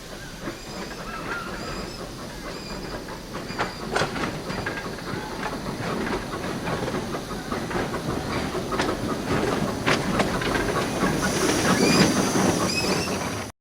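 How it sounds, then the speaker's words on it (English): A German-built 1904 steam locomotive hisses and chuffs with clanking metallic knocks and squeals, the noise building steadily louder toward the end. "This steam locomotive, built in Germany in 1904, is the museum's treasure."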